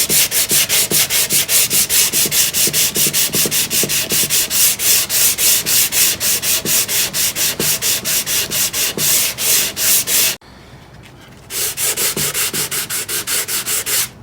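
120 grit sandpaper is worked by hand over the varnish of a 1930s Lotus radio cabinet in fast, even back-and-forth strokes, loud and close. There is a brief pause before the scraping resumes.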